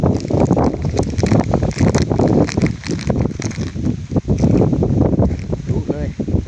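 Strong, cold wind buffets the microphone outdoors near a field hut whose roof has been blown off, with someone talking over the constant rumbling gusts.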